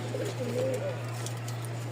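A red-eyed white pigeon gives soft, low cooing, brief and fairly close, over a steady hum and background noise.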